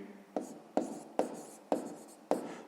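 Pen strokes on paper as a maths answer is written down, five short scratchy strokes in an even rhythm, each with a quick start and a fading tail, close and quiet.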